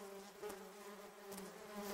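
A German wasp or common wasp buzzes in a garden, with a faint, steady hum that swells briefly as it passes nearby.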